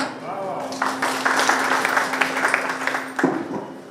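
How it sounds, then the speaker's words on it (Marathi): A crowd claps and applauds loudly for several seconds, a busy wash of hand claps that ends abruptly. "पुन्हा एकदा जोरदार टाळ्या"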